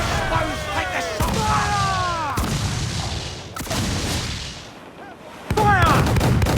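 Ship cannons firing in the Assassin's Creed IV: Black Flag naval battle, several loud booming blasts spaced a second or so apart, with shouted voices and a tonal music bed underneath.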